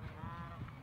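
A goose gives a single brief nasal honk, faint and slightly distant, from a flock gathered together within a video game scene.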